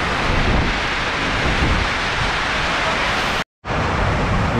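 Heavy rain and wind during a storm, a loud, dense, constant roar of downpour and gusts that cuts out briefly near the end before resuming.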